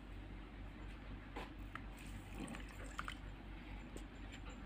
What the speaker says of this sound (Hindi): और अब मैं इसके अंदर डालूंगा थोड़ा सा पानी,